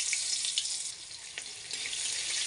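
Chopped onion frying in oil left over from frying fish, a brief burst of bright, dense sizzling hiss with small crackles, close and steady, no voices.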